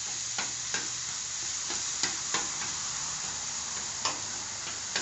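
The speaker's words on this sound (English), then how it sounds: "We're going to fry this down a little bit." Meat for a nacho taco salad frying in a pan, a loud, continuous close sizzle broken by sharp periodic scrapes or taps of a utensil, with no talk.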